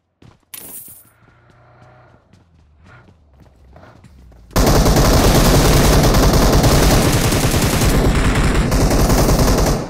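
Gunfire in a mobile shooter video game played on a OnePlus phone: a few faint clicks and taps, then a sudden, loud, sustained burst of rapid automatic fire that runs unbroken to the end.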